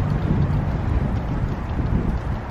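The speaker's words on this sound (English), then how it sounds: "Wind just came out of nowhere and just blew me in the face." Gusty outdoor wind buffets the microphone with a steady low roar for the whole stretch, loud and close, with no talking.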